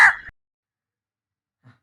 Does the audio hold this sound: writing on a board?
no